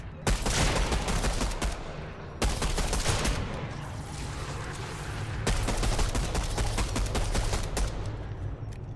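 Fortnite gameplay gunfire comes as rapid, sustained automatic bursts, loud and dense, with brief gaps between volleys and no clear talk over it.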